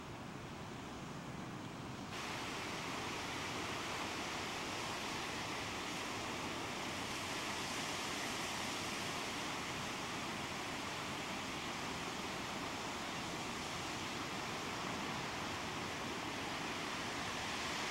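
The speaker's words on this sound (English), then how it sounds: "love the sound of the waves" Ocean waves wash steadily over a reef as the tide comes in, a dense continuous roar of surf close by with no voices.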